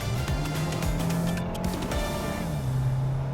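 A Kia Sorento hybrid in Prestige trim accelerates hard in sport mode. The engine note climbs steadily, drops briefly at a gear change, then rises again against a constant wash of road and tire noise from inside the cabin.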